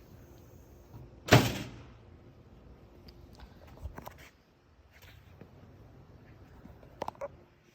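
A door opening onto an outdoor dock by the ocean, one sharp bang of the latch and frame followed by quieter thumps, soft footsteps and faint handling noises.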